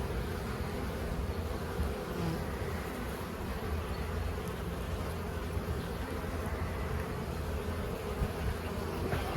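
Honeybees drone in a dense, steady buzz from an opened winter beehive with heavy frames lifted, the swarm sound constant and close throughout with no talk.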